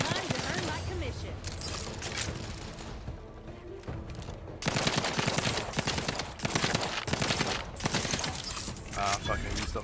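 Gunfire rings out in the video game Outer Worlds 2, rapid bursts of shots in two loud clusters around a quieter stretch, with a voice speaking over the action.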